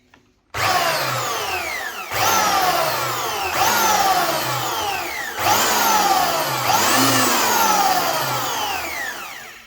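A handheld belt sander turned upside down and run in repeated bursts, each start a loud rising whine with a low rumble that holds steady before dropping off, about five bursts close by with no talk.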